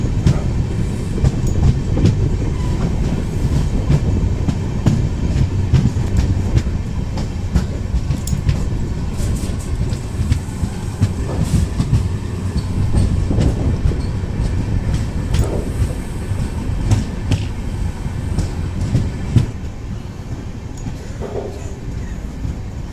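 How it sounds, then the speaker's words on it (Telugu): Okha–Puri Express passenger train rolling along the tracks after departing Balharshah, a loud, steady rumble with continuous rhythmic wheel clatter for the whole stretch and no voices. "ఇప్పుడు బలాషా నుండి ట్రైన్ డిపార్ట్ అయింది."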